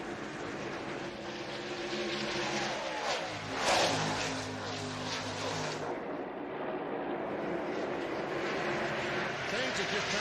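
NASCAR stock cars racing in the 2000 NAPA Auto Parts 500, loud engines roaring past with rising and falling pitch and layered whines, while a commentator talks over the track noise.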